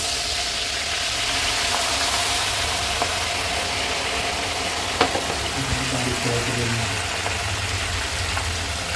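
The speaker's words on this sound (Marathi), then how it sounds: "पहिले सिमला मिरची टाकून घ्यायची, चांगली भाजून द्यायची. त्याला तेल आणि तूप आहे हे." Capsicum frying in butter, oil and ghee for pav bhaji, a steady, even sizzle that hisses throughout, with a sharp utensil clink near the middle and a few faint knocks after it.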